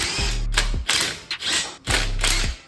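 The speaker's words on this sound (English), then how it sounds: "with those all loose, we can come in here with our impact socket" A ratcheting impact socket works on Mercedes diesel exhaust manifold bolts, giving three loud, rapid bursts of rattling, clicking mechanical chatter up close, with short gaps between them.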